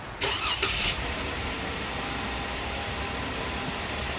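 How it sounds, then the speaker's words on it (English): A four-wheel drive vehicle's engine cranks and catches in a short burst, then settles into a low steady idle with faint background hiss. "Start the engine."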